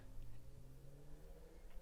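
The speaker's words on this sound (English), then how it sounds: "can you hear that fucking motorcycle?" A motorcycle passes on the road beside a house, heard as a faint, distant engine rumble and drone indoors, steady over a brief moment with no voices.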